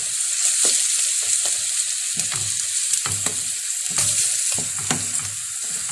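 Minced meat frying in a pan with onion and mushrooms, a loud close sizzle that crackles steadily while a utensil scrapes and stirs in repeated strokes.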